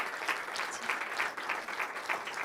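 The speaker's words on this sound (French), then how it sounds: "Merci beaucoup, on va t'applaudir." A pitch-competition audience claps steadily for a presenter, a soft, fairly distant patter of many hands with a slightly pulsing rhythm.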